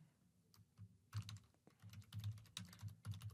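Computer keyboard typing in quick, uneven bursts of close key clicks with brief pauses, alone with no voice.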